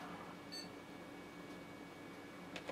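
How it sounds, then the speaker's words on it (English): One short, high electronic computer BIOS setup beep sounds early on over a faint, steady fan-like hum. "There's my beep."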